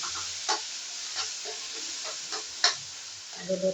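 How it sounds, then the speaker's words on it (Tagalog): Mushrooms going into a hot pan for pasta give a steady soft sizzle with occasional stirring clicks and light taps, close and moderate, ending with a few louder scrapes. "Lagay natin ating mushroom."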